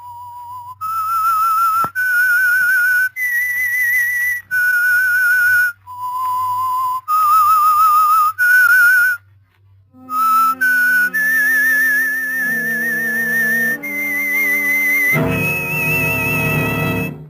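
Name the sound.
whistled theme tune, radio drama signal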